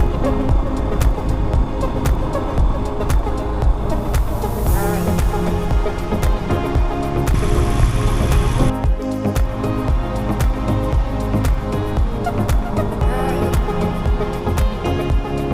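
A vehicle engine strains while climbing a Ladakh mountain road on the way from Leh toward Hunder and Khardung La, with clutch trouble. It gives a continuous, rough mechanical drone with rattles and shifting load.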